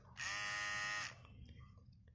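A NOVA electric hair trimmer switched on, its blades giving a loud, close, high-pitched buzz for about a second before it cuts off, followed by faint handling noise.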